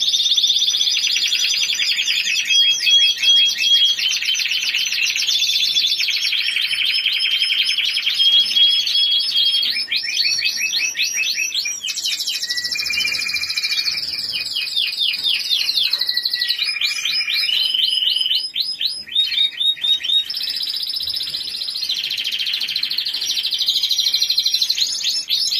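Spanish Timbrado canaries singing nearby in long, loud, continuous trills and rolling metallic phrases that shift in pitch, filling the whole stretch with no speech.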